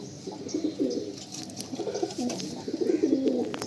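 Pigeons coo repeatedly in the female section of a loft, low throaty calls rising and falling in overlapping bursts throughout, with faint chirps and rustling behind them and no talking.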